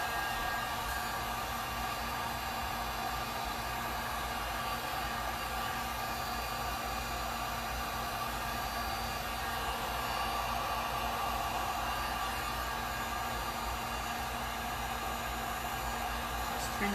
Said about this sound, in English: Just trying to blow some of this color over the black